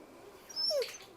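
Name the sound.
dog whimpering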